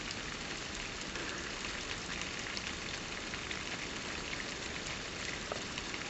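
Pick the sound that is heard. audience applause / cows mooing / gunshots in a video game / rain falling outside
rain falling outside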